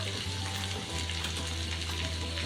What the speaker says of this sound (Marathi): आता यात मी आपल्या सगळ्या भाज्या टाकून घेणार आहे. यात टाकणार आहे 1 चमच लाल तिखट